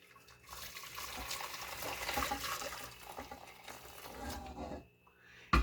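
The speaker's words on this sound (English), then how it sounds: "I'm gonna go ahead and throw some water in here." Water pours and splashes into a pot of spaghetti in a home kitchen, a fluctuating liquid gush that swells and fades over several seconds before stopping with a brief clunk at the end.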